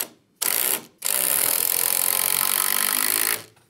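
A power driver runs a screw through a timber joist into the block behind it during soffit bracing work: a short opening burst, a brief pause, then a steady, loud whir for about two and a half seconds before it stops, with no talking.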